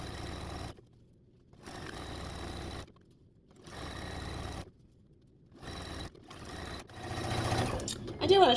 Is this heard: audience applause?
no